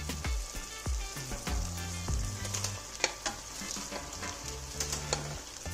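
Spinach and dandelion leaves sizzle and fry in a milk and flour sauce, a steady close crackle broken by repeated knocks and scrapes of stirring in the pan.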